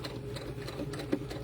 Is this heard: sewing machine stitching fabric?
yes